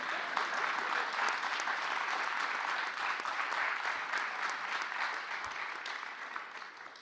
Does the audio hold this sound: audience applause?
yes